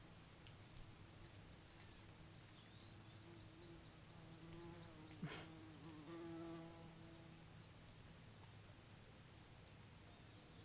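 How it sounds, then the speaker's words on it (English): A bumblebee buzzing outdoors in a small-town setting, a faint drone that swells briefly as it passes near, over a steady background of insect chirping. "A bumblebee."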